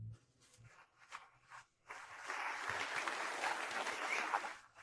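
An audience at a corporate event breaks into applause welcoming the company president to the stage, a sustained crowd clapping that swells in after a couple of seconds of quieter movement and shuffling.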